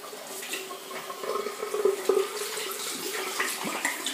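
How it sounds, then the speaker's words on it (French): Running tap water splashes steadily as a face is rinsed with clear water after an exfoliating scrub in a sensitive-skin routine, close and continuous with small splashing surges. "Donc là, je vais rincer à l'eau claire."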